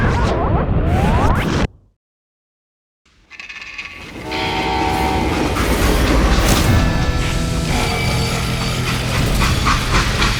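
Freight train in the Western game Call of Juarez: Gunslinger rumbling steadily along the rails, loud and continuous after a brief cut to silence, with a dense clattering roar and a faint horn-like tone.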